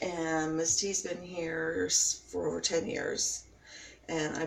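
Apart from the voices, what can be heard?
No everyday noise stands out behind the speech.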